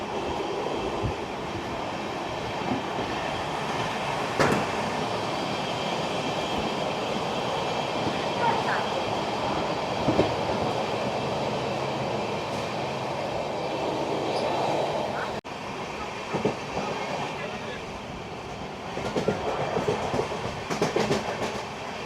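The 12347 Sahid Express passenger train runs on rails from Kolkata toward Tarapith with a loud, continuous rumble and scattered clickety-clack wheel knocks, heard close from inside the coach.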